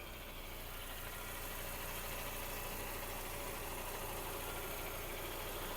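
A 2009 Skoda Octavia A5 1.6 MPI petrol engine idles smoothly and evenly, a steady mid-range hum with no breaks, close by and fairly quiet.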